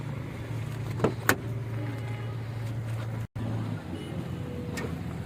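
A power window motor in a 2020 Hyundai Aura 1.2 Kappa SX petrol hatch whirs steadily for a few seconds and stops abruptly with a thunk, then the cabin hum resumes. Faint clicks occur early on.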